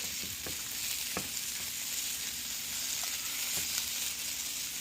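Potatoes for chatpata Pindi-style aloo fry in a pan with the lid off, a steady close hiss of frying with a few light scrapes and clicks of stirring, no talk.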